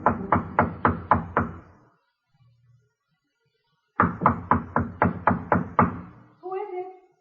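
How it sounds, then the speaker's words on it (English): Knuckles rap on a hotel room door in two firm bursts of about six quick knocks each, close and crisp, with a brief spoken response after the second burst. "then knocks on the door."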